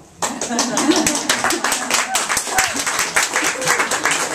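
An audience claps at a poetry reading in a small venue, a sudden start into steady, dense hand clapping that continues evenly with faint voices underneath.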